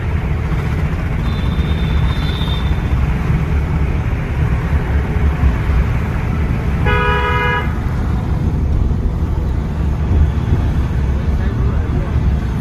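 A driving-school car's engine rumbles steadily from inside the cabin, with a brief high tone early on and a short burst of horn toots partway through.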